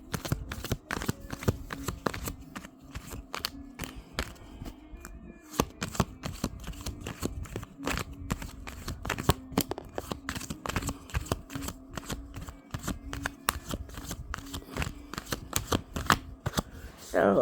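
A tarot deck shuffled by hand in long bursts of rapid, close riffling clicks and flicks, continuing with brief pauses and a faint steady hum in the background.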